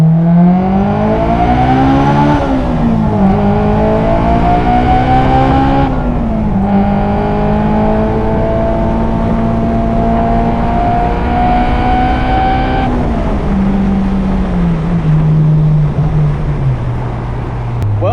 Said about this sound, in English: the exhaust truly sounds amazing